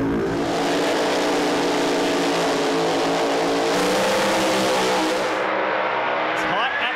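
Glasby drag race car making a record-pace run, its engine a loud, sustained roar that holds for several seconds before cutting off abruptly near the end.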